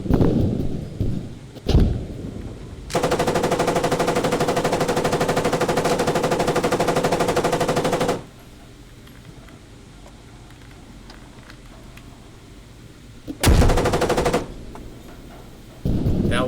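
M203 grenade launcher fire in a video game: a loud, dense burst of blasts lasting several seconds, then a quieter stretch, with a short heavy blast near the start and another brief burst near the end.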